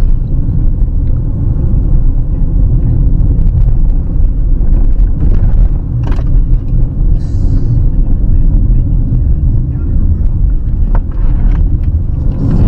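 A Honda CR-V Black Edition, a front-wheel-drive car, rolls fast downhill in S gear with engine braking, giving a steady loud low rumble of engine and road noise with wind buffeting throughout.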